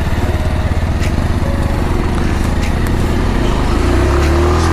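A motorcycle rides hard on a dirt track near an old temple park, its light engine buzzing loud and close and rising in pitch as it revs, with no talk.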